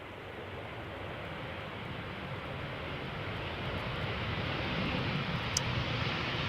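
A jet airliner on approach to Schiphol's Polderbaan runway gives a steady, broad engine roar that swells slightly louder as it nears, heard alone without voices.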